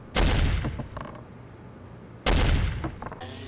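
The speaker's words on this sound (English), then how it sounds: "and limbs getting torn off." Gory limb-tearing effects from the shooter game Soldier of Fortune, two loud crunching, splattering bursts about two seconds apart, each with a heavy thud and a ragged tail, with no talk over them.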